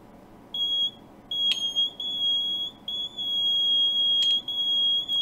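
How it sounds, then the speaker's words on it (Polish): A DIY metal detector kit's buzzer emits a steady, piercing high-pitched tone. It cuts in and out in uneven stretches, with soft clicks and handling noise between the beeps. "jak się zbliżamy, dioda się jaśniej zaświeca, głośniej piszczy brzęczyk."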